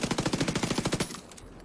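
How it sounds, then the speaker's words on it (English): A rapid burst of SMG fire in The Division 2, about a dozen quick close shots in even rhythm over roughly a second, then a short tail of fading echo. "Gonna go for SMG on this guy."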